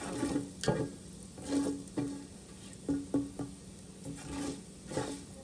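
Hot oil sizzles in a pan of potatoes for khattay aloo, with a steady hiss and bursts of spattering as the contents are stirred and turned.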